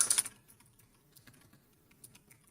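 Typing on a computer keyboard while coding a game: a few quiet, irregular key taps after a louder burst at the start, close and soft with no talk.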